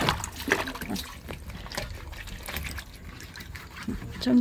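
Water pours and trickles steadily while a goat's water trough is cleaned, a continuous splashing dribble with irregular louder bursts over a busy background.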